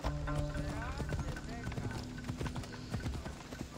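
Horse hooves clip-clop at a steady gallop in Assassin's Creed Odyssey, close and rhythmic, with someone talking over the hoofbeats throughout.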